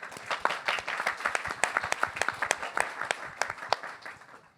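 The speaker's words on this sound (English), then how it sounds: "I think it does call for an applause." An audience at a panel discussion claps in a moderate round of applause, individual sharp claps audible over a steady patter that fades toward the end.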